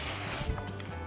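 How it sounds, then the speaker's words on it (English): A face mist spray bottle puffs a broad hissing spray at close range for about half a second, then cuts off, leaving quiet room background. "This one I love because when I'm at the beaches, I can just spray it."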